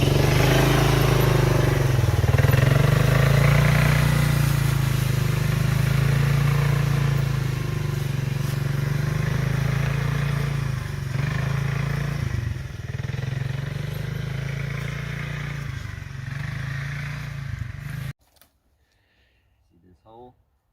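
A vehicle engine runs steadily and loud with a low droning hum and some clatter, then cuts off abruptly near the end, leaving near silence.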